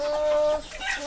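A chicken lets out a brief drawn-out call up close, followed by softer fowl sounds and light background noise.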